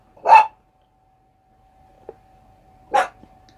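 A dog lets out two short, sharp barks about three seconds apart, close and fairly loud, with a faint steady hum and a small knock in between.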